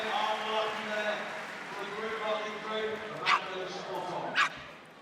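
Dogs bark and yip at a flyball competition at Crufts 2020, a busy arena where repeated excited barking runs under continuous commentary and crowd noise, with a couple of sharp bangs near the end.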